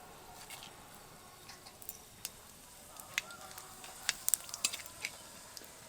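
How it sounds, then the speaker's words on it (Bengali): Whole spices, bay leaf, dry chilli, cardamom, clove and cumin, hitting hot oil for tempering, a faint steady sizzle with scattered small pops and crackles growing busier toward the end. "তেলের মধ্যে এবার দেব ফোড়ন।"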